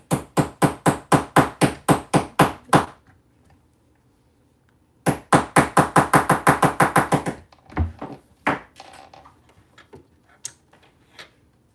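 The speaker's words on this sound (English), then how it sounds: "all I do is I set it on there and then I hit it with a hammer" Hammer blows strike a sewn Siah Sidekick bag resting on a table, two rapid runs of about ten loud, evenly spaced hits each, separated by a pause, followed by scattered softer knocks and handling noises.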